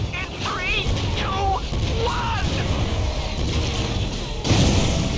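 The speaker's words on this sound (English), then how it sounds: "We haven't seen an explosion that pretty since the Phylax intrusion at the 8th parallel." Grenade explosions in the Ratchet & Clank video game rumble as a continuous heavy roar under game music, with a fresh loud burst near the end.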